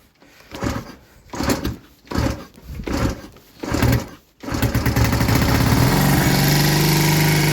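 Honda CD 175 barn-find motorcycle being kicked over several times in uneven rhythmic bursts before the engine catches and settles into a steady, close idle with a faint high buzz.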